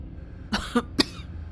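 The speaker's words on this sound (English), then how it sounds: "He coughs gently." A video game character with a hoarse, sickly voice coughs gently two or three times in quick succession, close and soft over a low steady background hum.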